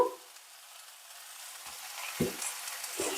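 Wild spinach tossed with salt into a hot pan gives a faint, low sizzle, broken by a few short scraping and stirring knocks.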